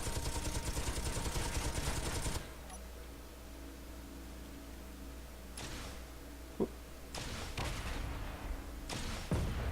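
Gunfire destroys a turret in the game Space Engineers, with a dense burst of rapid shots at the start, then a low hum broken by several shorter bursts and sharp single cracks.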